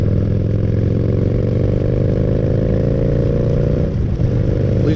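A motorcycle fitted with a loud aftermarket exhaust holds a steady, throaty rumble close by, with the engine note rising slightly as it revs before a brief dip near the end.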